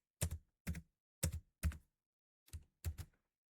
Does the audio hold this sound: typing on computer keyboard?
yes